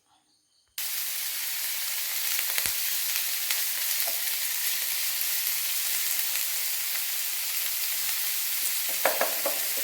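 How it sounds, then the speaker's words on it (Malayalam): Green chillies, ginger, curry leaves and onion sautéing in oil for a chicken parts fry, a loud, dense crackling sizzle that starts abruptly after a brief silence, with occasional stirring clatters and no talk. "അതിലേക്ക് പച്ചമുളകും ഇഞ്ചിയും വേപ്പലയും സവാള എല്ലാം കൂടെ ഇട്ട് നമുക്ക് വഴറ്റാം"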